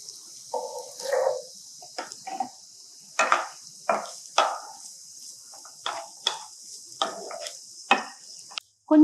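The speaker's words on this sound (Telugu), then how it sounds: "సన్నగా తరిగిన ఆనియన్స్, ఉల్లిపాయ వేసుకున్నాక పచ్చిమిర్చి వేసుకుందాం." Onions and green chillies stirred in a pan, heard as a run of short clinking, scraping strokes spaced a second or so apart, close and fairly clear over a steady faint background hiss.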